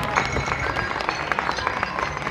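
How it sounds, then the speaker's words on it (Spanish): Audience applause at a school Mother's Day dance event as third-year students leave the stage; steady dense clapping fills the room throughout, moderately loud with no speech over it. "vamos a despedirles con un fuerte aplauso"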